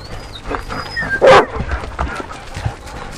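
Dogs at summer training giving yips, whimpers and a sharp bark near the middle, close by and fairly loud, with brief movement noise around them.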